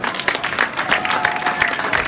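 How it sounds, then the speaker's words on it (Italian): A crowd applauds steadily, dense clapping from many hands filling the whole moment at an even, moderate loudness. "L'ultimo applauso è per voi."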